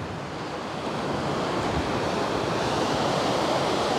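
Sea waves surging in at high tide along a fishing shore, a steady, loud, continuous wash of surf with wind noise and no voices.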